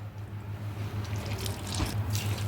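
Water drips and trickles from grated bottle gourd as it is squeezed by hand in a kitchen, a faint, steady wet patter with a low hum underneath.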